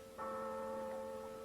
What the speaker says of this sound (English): That's the passing bell for the dead.